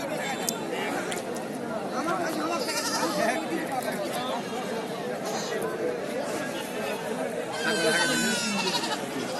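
Goats bleat repeatedly amid a busy crowd at a goat market in Mahadebpur, Naogaon, with many people talking loudly nearby.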